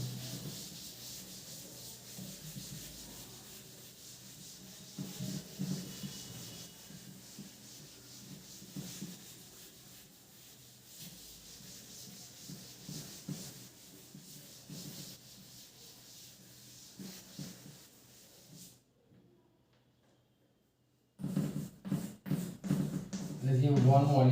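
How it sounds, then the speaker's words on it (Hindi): Writing is rubbed off a board with repeated scratchy, sanding-like strokes under someone speaking, followed by a brief pause and then a few louder rubbing bursts. "इसको रब करता हूँ।"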